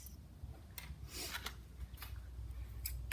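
Scissors snip the backs off small letter board letters, with a handful of faint, quick cuts spread unevenly over a quiet room hum.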